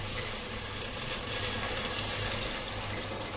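Hot water being poured from a vessel into a biryani pot, a steady continuous rushing pour heard alone at moderate level throughout.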